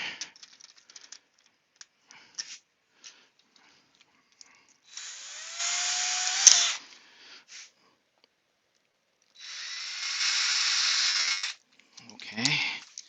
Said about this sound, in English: if I can get the hole to drill first